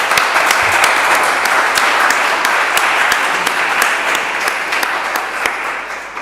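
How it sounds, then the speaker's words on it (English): Loud, sustained applause from an audience at an academic congress, a dense wash of clapping that holds steady throughout. "So please give her a warm clap."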